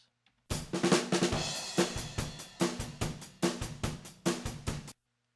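A dry, unprocessed drum kit recording plays a steady groove, with kick, snare and cymbal hits sounding raw and close.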